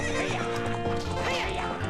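Epona the horse neighs in Zelda Ocarina of Time, a loud whinny layered over the game's dense music and hoofbeat effects, lasting under two seconds.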